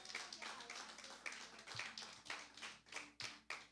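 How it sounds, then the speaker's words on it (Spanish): A church congregation giving applause to the Lord, rhythmic unison clapping in regular, evenly spaced beats, fairly close and moderately loud. "Dale un aplauso al Señor."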